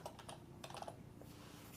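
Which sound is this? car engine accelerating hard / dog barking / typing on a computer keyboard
typing on a computer keyboard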